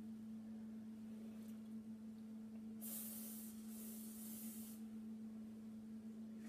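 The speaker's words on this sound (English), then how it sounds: "I'm just going to give it a little spray." Quiet steady hum underneath as hairspray hisses from an aerosol can in a couple of short bursts onto braided buns, close by, with no one speaking.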